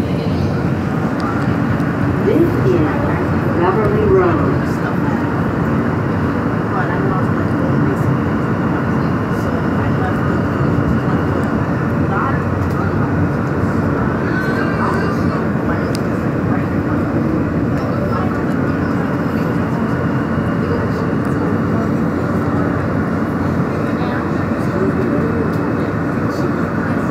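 An R160 Q subway train runs between stations on the ride from Prospect Park toward Newkirk Plaza, a loud, continuous rumbling roar of wheels and motors with faint squeals, steady throughout.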